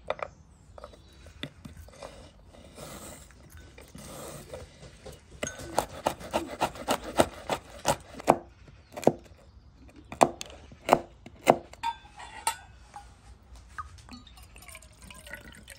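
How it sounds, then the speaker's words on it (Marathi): Dry nuts chopped finely with a knife on a board for Konkani sheera: a run of sharp, irregular knife taps, close and moderately loud, thickest in the middle stretch, with no talking. "आता सगळे नट्स जे आनी हे भशेन आमी बारीक कट करून घेवया"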